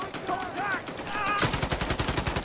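Rapid machine gun fire in a video game: a quick run of evenly spaced loud shots begins midway and continues to the end, preceded by quieter sounds and a faint warbling tone.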